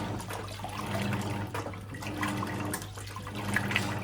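Simpson Enduro 701 washing machine partway through a normal warm wash, a steady low motor hum under sloshing, churning water, continuous and moderately quiet throughout.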